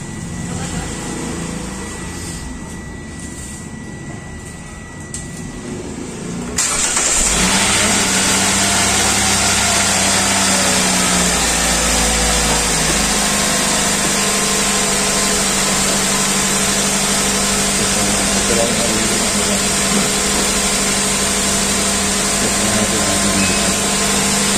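A car engine idles steadily up close during a battery change, a constant mechanical hum that jumps louder partway through and then holds at a smooth, even level.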